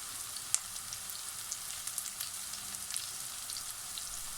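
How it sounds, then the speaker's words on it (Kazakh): Meat cutlets fry in a pan over medium heat, giving a steady, fairly quiet sizzle with small crackles and pops scattered through it, and no voices. "15 минуттай кішкене қызарғанша қуырып аламыз."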